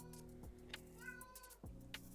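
A cat meows indoors: a few faint, drawn-out tonal calls in quick succession, heard alone with no talking over them.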